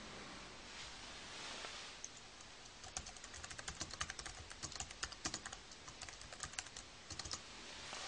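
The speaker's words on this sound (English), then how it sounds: "Go to email to compose a message with our keyboard." Typing on an Apple wireless keyboard connected to an iPad to write an email, heard as quiet, quick key taps that grow busier after a soft start, against a faint hiss with no talking.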